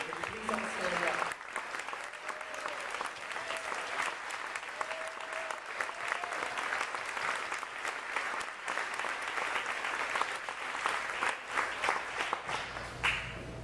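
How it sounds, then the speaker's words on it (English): A dinner audience at the PFLAG Atlanta awards gives volunteers a long, steady round of applause, dense clapping filling the room for the whole stretch. "we'd like to give you a round of applause"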